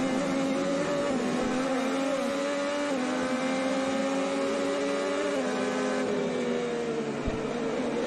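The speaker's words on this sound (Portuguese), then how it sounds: "Vamos ouvir o motor dele na freada? Repara como ele tira o pé antes do acelerador e depois ele freia." An IndyCar driven by Hélio Castroneves at the Toronto street race drones steadily from onboard as he lifts off the throttle under braking. The engine note slides gradually downward, loud and continuous.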